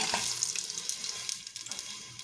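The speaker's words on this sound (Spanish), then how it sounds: "He puesto un chorreón de aceite y ahora vamos a echar el conejo." Rabbit pieces dropped into hot olive oil in a pot, a loud close crackling sizzle that flares at first and then settles into steady frying with scattered pops, no talk.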